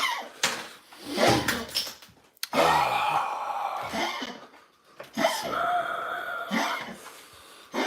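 A series of harsh, rough coughs from a dog comes in uneven bursts with short pauses between them, close by and fairly loud.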